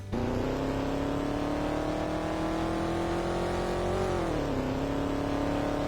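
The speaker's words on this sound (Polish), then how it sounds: "No, słychać tutaj V8" A Ford Mustang GT V8 engine in a Roblox driving game drones steadily at a constant rev, dipping briefly with a gear change before resuming its throaty hum.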